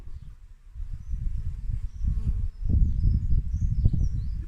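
Honeybees buzz around an open hive during an inspection, a dense low drone that swells and ebbs continuously, close and fairly loud, with no voices.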